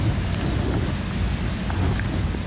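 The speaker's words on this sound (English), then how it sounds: "Oh, now it's really raining." Heavy rain falls outdoors during a thunderstorm, a dense, loud, steady wash of noise with low rumbling underneath, heard without speech.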